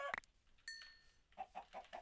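Chicken clucking in a Nuzlocke Pokémon video game, a sharp squawk at the start followed by a short series of soft, evenly spaced clucks, fairly quiet and alone.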